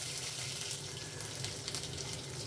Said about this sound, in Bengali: রসুনগুলো ভাজা হয়ে গেলে